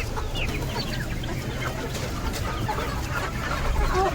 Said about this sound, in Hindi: इसको चूज़े ऐसे ही खा लेते हैं चोंच मार मार के।